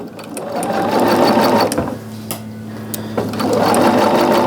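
A sewing machine stitches a quilt block in a loud, close, continuous whir that slows briefly in the middle and then speeds up again.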